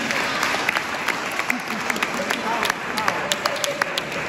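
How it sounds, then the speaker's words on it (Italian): An audience at a talk claps steadily through the whole stretch, with a few sharper claps standing out and a voice speaking over the applause. "Grazie ancora a tutti. Un applauso."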